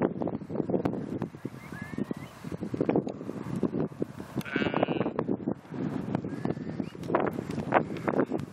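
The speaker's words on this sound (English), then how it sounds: "Lambs about as well." Lambs bleat repeatedly in open hill country by Digley Reservoir, several calls near and far over gusty wind buffeting the microphone.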